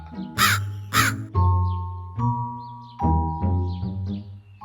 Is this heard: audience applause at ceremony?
no